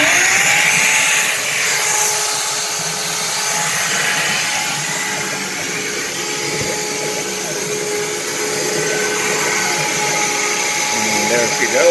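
A CNC router carves an emblem with a 1/4 inch ball nose bit, its steady high-pitched motor whine and cutting roar running continuously and loud throughout, with no break.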